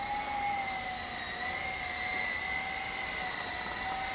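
An E-Sky Lama V4 coaxial RC helicopter flies outdoors in wind, giving a steady high-pitched electric whine that shifts slightly in pitch as it moves, with no voices.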